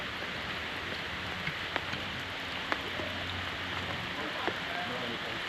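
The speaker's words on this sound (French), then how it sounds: "Ah, c'est que ça commence à pleuvoir là." Steady rain patters on a surface on the Leogang mountain bike track, with a few sharper drops standing out against the constant hiss.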